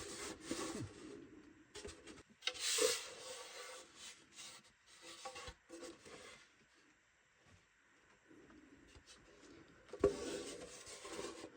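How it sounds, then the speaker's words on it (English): A hand saw cuts flush through the wooden tail section of a handmade seven-string lyre, giving quiet rasping strokes in irregular bursts with short pauses between them. "going to saw cut this flush here"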